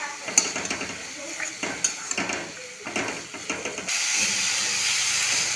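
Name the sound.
masala spice paste being fried and stirred in a pan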